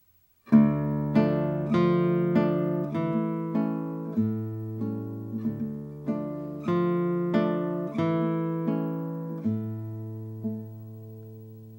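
A plucked classical guitar phrase of rolling notes from Capricho Arabe starts loud and gradually fades in volume, each note ringing with a clear, sustained decay.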